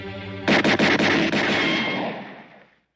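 A single loud gunshot blast from a handgun sounds up close after a brief tonal lead-in, with a sharp onset, a few quick echoing reflections and a reverberant tail that fades over about two seconds.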